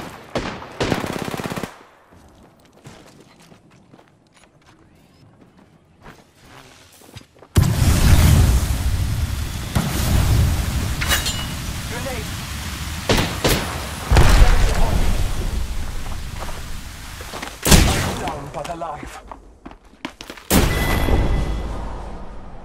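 Loud bursts of automatic gunfire in an Apex Legends battle, rapid rattling volleys with heavy impacts after a quieter opening, continuing in repeated bursts near the player.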